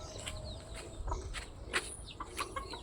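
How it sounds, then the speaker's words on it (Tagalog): Scattered chicken clucks and short calls from several birds, moderately near, over a steady outdoor background with a few faint footsteps. "Ang dami kong manok. Nagkalat lang."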